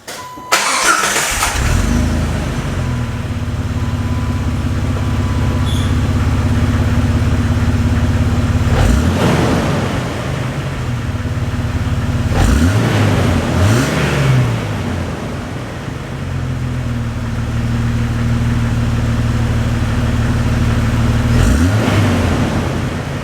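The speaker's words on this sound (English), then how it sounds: "So I'm gonna start it up." A Jeep Wrangler TJ with a Flowmaster exhaust cranks and starts, then idles with a steady rumble, broken by a few short revs that rise and fall.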